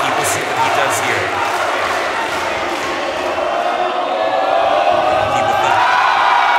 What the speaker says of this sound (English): The crowd's certainly getting behind Rocky.